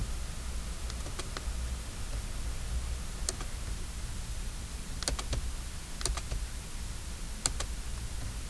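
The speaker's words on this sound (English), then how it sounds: "I'm going to type in the other one. So I will type that in exactly as it is." Typing on a computer keyboard, short clusters of light clicking keystrokes spaced irregularly over a steady background hiss, fairly faint and close, with no talking.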